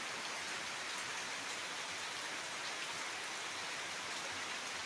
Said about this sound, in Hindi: बहुत ज़ोर से बारिश हो रहा है,